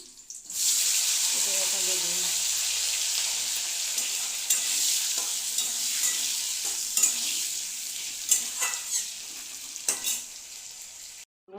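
Loud, continuous sizzling of dried red and green chilies frying in hot oil, with stirring clinks and scrapes breaking through before it cuts off abruptly.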